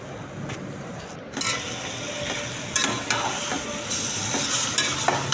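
Raw mango chutney bubbles and sizzles in a pan over a high flame, with steady scraping and stirring strokes running throughout at close range and no talking.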